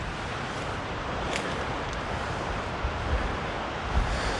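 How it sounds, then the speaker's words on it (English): Gusty wind buffets a muffled microphone outdoors on a hiking trail, a steady broadband rumble with a few stronger gusts thumping near the end. "it is really, really gusty"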